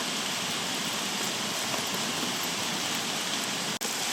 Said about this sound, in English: Hailstones in August.